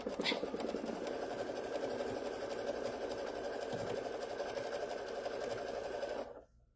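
A sewing machine runs a center seam on a quilt, a fast, even mechanical whirr with a steady stitching rhythm that holds for about six seconds and then stops abruptly.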